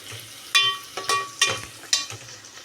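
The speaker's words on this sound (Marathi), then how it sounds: "आपण हे सगळं मिक्स करून घेणार आहोत" Onion masala stirred in a pan over a lowered flame for egg biryani, with four or five distinct scraping sweeps of the spoon over a soft background sizzle, close and fairly quiet.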